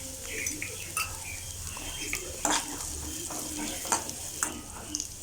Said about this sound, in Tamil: நல்லா மஞ்சள் போட்டதுக்கப்புறம் கிண்டி விட்டுக்கோங்க.